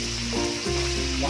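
Butter sizzles loudly in a hot pan for a large batch of chili garlic buttered pork, a steady broadband crackle running close and continuous with no voices.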